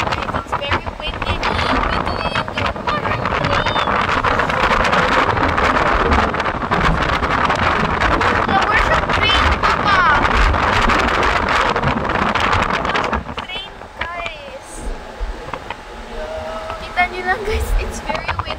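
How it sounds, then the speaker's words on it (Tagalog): Strong outdoor wind buffets and roars loudly and continuously, easing noticeably near the end, with a person talking over the gusts. "It's very windy."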